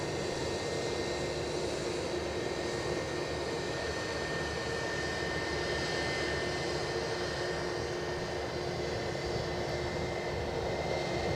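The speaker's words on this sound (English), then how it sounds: "British Airways, as you saw a bit of there, just passing my position, an A320-200 on its way to Heathrow." A British Airways Airbus A320-200 taxiing past at Edinburgh Airport gives a steady, moderately faint jet engine hum with a thin high whine, even and unbroken, with no talk.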